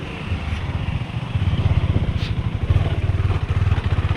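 A vehicle engine rumbles close by with a steady, throbbing low chug that grows a little louder partway through, heard alone.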